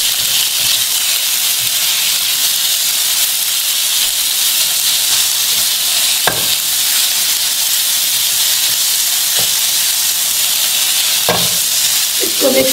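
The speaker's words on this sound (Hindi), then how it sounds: "फिश डालने के बाद मिक्स करेंगे इसको अच्छी तरह।" Fish stirred and mixed in a hot frying pan gives a steady, loud sizzle and hiss throughout, with a few sharp scrapes and clicks of the spoon against the pan.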